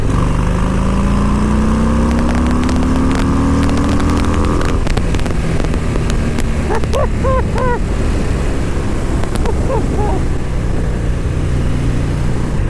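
A 2019 Harley-Davidson FXDR 114 motorcycle engine rises in pitch at full throttle, then fades into buffeting wind noise and rumble, with a faint voice briefly audible.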